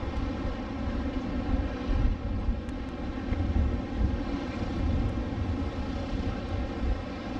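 Wind buffets the microphone at Cape Hedo, a coastal cape in Okinawa's Yanbaru region, in a steady low roar with gusty swells, loud and continuous, with no voices.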